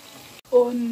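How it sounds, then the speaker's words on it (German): Food frying in olive oil in a pan gives a short burst of close sizzling that drops out for an instant and then returns with a stronger crackle, under quiet talk. "ganz lange braten"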